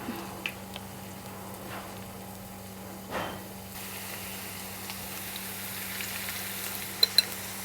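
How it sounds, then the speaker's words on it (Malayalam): Cabbage vada frying in hot coconut oil, a soft continuous sizzle with a few faint pops and bubbles, steady and close, with no one speaking. "ഏകദേശം വെളിച്ചെണ്ണ ഇവിടെ നന്നായിട്ട് ചൂടായിട്ടുണ്ട്. എന്നിട്ട് നമുക്കത് അതിലേക്ക് ഇട്ട് കൊടുക്കാം."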